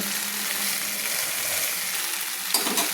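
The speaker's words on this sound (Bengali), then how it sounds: "মশলার সঙ্গে মশলা কষানোর পর আমি জলটা অ্যাড করে দিলাম আর একটু আমি কষিয়ে নেব" Spice paste with added water sautéing in a pan for a Bengali mourola fish curry, a steady close sizzle and hiss with light stirring scrapes, growing a little busier toward the end.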